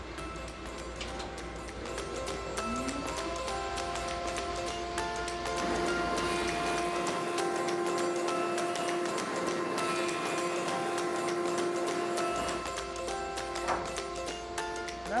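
A woodworking jointer planes a wooden board straight in a workshop, its motor whirring steadily with a rising cutter whine, ticking and rattling and a few tonal shifts as the board feeds through.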